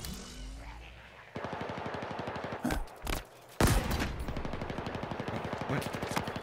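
Rapid automatic gunfire in Halo Infinite, a dense rattle of quick shots running through most of the clip, broken by a few louder heavy blasts midway.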